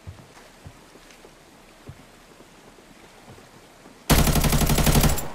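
Arena Breakout MK14 rifle loaded with M80 rounds fires a sustained, very loud, dense volley at close range after a few seconds of quiet ambient thumps and faint distant shots.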